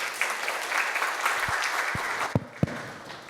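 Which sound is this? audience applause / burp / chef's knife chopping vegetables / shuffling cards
audience applause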